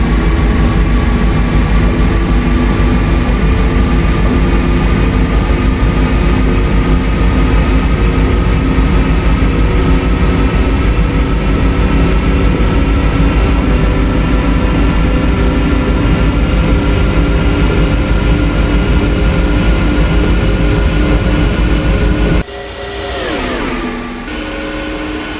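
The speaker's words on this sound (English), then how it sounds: "you just saw a train going that fast? That's insane." A Santa Fe express train racing past at high speed through the Sonoran Desert, a loud steady roar with a drawn-out horn tone that drops sharply in pitch as it passes, then the noise falls away.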